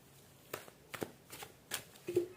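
Tarot cards are shuffled in several quick riffling bursts, close and fairly quiet, with brief pauses between them and no speech.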